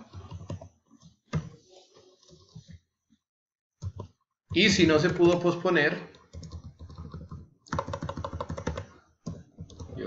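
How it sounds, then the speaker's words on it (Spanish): Computer keyboard typing in bursts of rapid clicking, close and fairly loud, alternating with someone speaking Spanish between the bursts. "llevo 3 años con este teclado y todavía no me acostumbro en dónde quedan las cosas"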